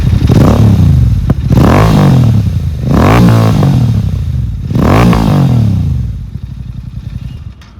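A Royal Enfield GT650 twin fitted with an SSP exhaust revs loud and close, rising to around 5,000–6,000 RPM in repeated sweeping blips before settling to a rougher idle, with no talking.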